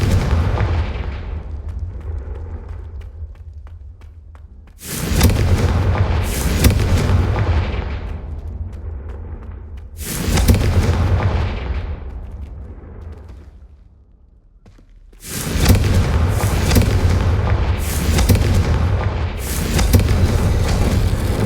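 Confringo blasting-spell explosions in the wizarding video game Hogwarts Legacy: four heavy booming blasts roughly five seconds apart, each trailing into a rumbling decay over a constant low background roar.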